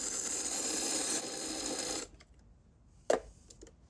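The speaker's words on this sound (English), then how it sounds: "Good spice grinder is always nice to have." An electric spice grinder whirs steadily and loudly up close while grinding juniper berries and black peppercorns for about two seconds, then stops, followed by a few faint clicks and a brief knock.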